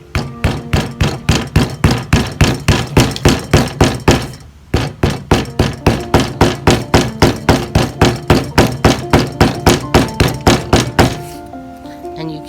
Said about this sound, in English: You just hammer away.